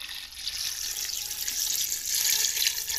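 Water pours steadily from a jug into a cooking pan with yogurt, a continuous close splashing rush that builds slightly toward the end, with no talk.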